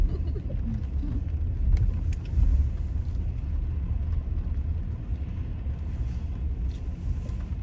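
A car drives along a road in late afternoon, its steady low engine and tire rumble filling the cabin continuously with no talk over it.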